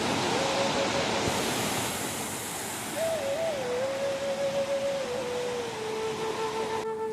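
A forest stream in Kalakadu flows with a steady, close broadband rush of water that runs unbroken throughout, while a thin whistling tone drifts faintly over it.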